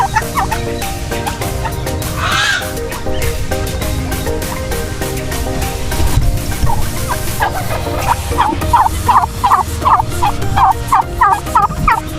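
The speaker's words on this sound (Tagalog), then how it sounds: "meron po dito dalawang pabo na naglilimlim" Several turkeys gobble nearby in a backyard farm, their warbling calls repeating in quick succession and growing more frequent toward the end, over a steady farmyard background.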